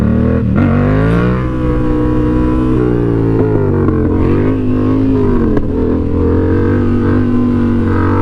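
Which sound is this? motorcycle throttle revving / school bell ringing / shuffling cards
motorcycle throttle revving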